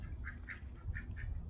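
Pet ducks near a garden duck house give a few faint, quick quacks in a soft burst of about five calls, heard at a distance over a low outdoor rumble.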